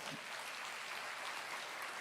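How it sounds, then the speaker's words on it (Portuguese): A church congregation claps steadily together, a dense, even patter of applause that continues for a couple of seconds without talk. "vamos aplaudir ao Senhor."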